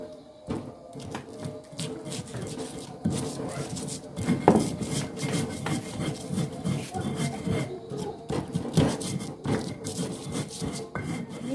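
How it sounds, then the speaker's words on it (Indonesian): Shallots, garlic, pepper and salt are crushed in a stone mortar with continuous gritty grinding and scraping, close and moderately loud, with soft knocks and faint voice underneath. "Ini kita ulek sampai halus."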